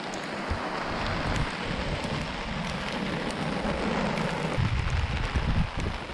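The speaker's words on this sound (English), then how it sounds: "Oh, it's raining." Steady rain falling with a dense hiss of drops on surfaces, continuous and fairly close, with no voices.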